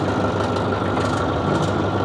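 Old tractor engine chugging along in half gear while tilling a tobacco field with a rotary tiller, a steady low diesel rumble with a dense throbbing texture, close and continuous.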